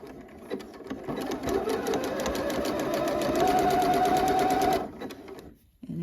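A sewing machine stitches a mock-neck bell-sleeve top in a fast, steady whir, then reverses into back stitching before stopping abruptly, followed by a short rustle of fabric.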